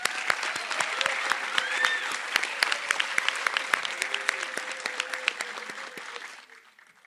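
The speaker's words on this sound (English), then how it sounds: "So I just want to give a hand clap to my class just for still being here right now." Sustained applause from a crowd at a fire rescue academy graduation ceremony, steady dense clapping with a few sharper claps standing out, fading away near the end.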